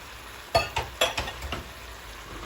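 A spoon scrapes and clinks against a pan in five quick strokes, stirring potatoes, celery and browned mince over a faint sizzle, then settles.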